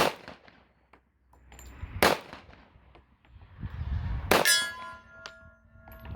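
Shots from an SR45 pistol ringing off a steel target, two sharp loud reports each followed by a metallic clang, with gaps of quieter outdoor background between them.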